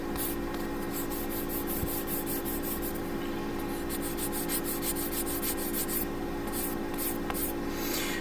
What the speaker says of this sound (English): going to do a little sanding. First I'm going to use a 400 grit